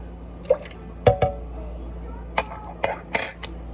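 A spoon clinks against the side of a cup as Herbalife tea with cranberry aloe is stirred, giving several sharp, separate taps spread over a few seconds against a quiet background.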